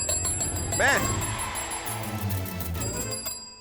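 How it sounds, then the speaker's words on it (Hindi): A small hand bell rings with a quick bright burst, then fades under a noisy indoor scene with voices talking. "मैं बजा रहा था घंटी, तो चेक कर रहा था कि बज भी रही है या नहीं।"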